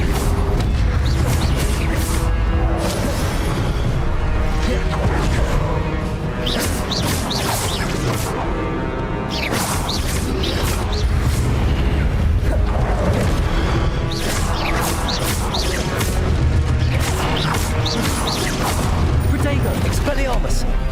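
Confringo spell explosions in Hogwarts Legacy, repeated booming blasts and crashes over dense, loud combat noise, with shouted voices throughout.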